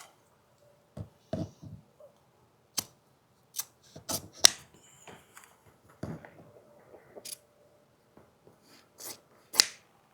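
Scissors trim chair upholstery fabric in scattered sharp, close snips separated by short pauses of near silence.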